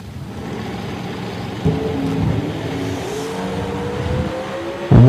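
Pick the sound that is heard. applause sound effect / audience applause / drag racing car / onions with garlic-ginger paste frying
drag racing car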